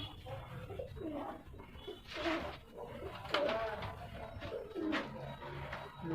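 Pigeons for sale softly cooing in short, repeated throaty bursts, faint and somewhat distant, over low background noise.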